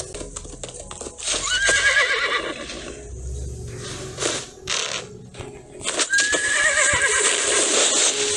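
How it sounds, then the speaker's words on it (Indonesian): A horse in the video game Eclipse Isle gives two loud, rising whinnies several seconds apart, with hoof clip-clops and scattered game effects around them and no talk. "Wow, nemu kuda, guys. Coba kita naik kuda bisa enggak ya?"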